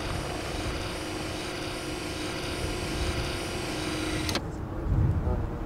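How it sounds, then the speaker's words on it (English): Helicopters and aircraft flying over Yuma, a steady droning engine and rotor noise that holds evenly for several seconds and then cuts off abruptly, followed by a brief low rumble. "Even today, Yuma's skies are filled with the sound of helicopters, passenger planes, and military jets."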